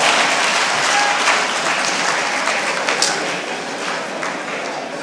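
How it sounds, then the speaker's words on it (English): Audience at the official launch of a Nigerian farmers' soil health scheme breaks into sustained applause, a dense wash of many hands clapping that gradually tapers off, with no speech over it. "Please, let's give him a round of applause."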